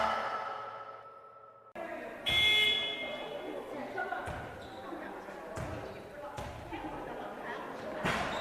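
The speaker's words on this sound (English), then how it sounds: "Yes, the buzzer has just gone." A short electronic buzzer blares in an indoor arena during a handball match while balls bounce and thump and voices murmur around the court.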